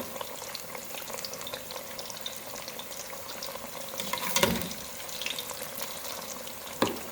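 Eggplant pakora fritters frying in batter in hot oil, a steady close crackling sizzle throughout, with a brief louder splash and clink partway through and another clink at the end.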